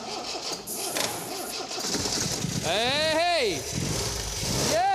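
An MG MGB's engine cranks with a whirring starter and then catches and starts. The sound is close and loud, with a man calling out briefly over it.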